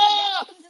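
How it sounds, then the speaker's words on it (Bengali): A Jamunapari goat lets out a single loud, close bleat with a wavering tone, fading after about half a second into quiet background. "দেখি রাম ছাগল নাকি"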